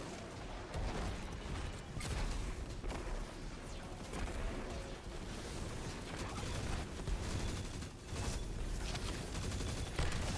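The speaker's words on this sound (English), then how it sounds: "I feel like this dude fires rockets like unlike any of the other Goliath tanks in the game." A Goliath tank in a video game fires rockets in rapid, rattling bursts, a dense barrage of crackling blasts and mechanical clatter that carries on steadily for about ten seconds at moderate distance.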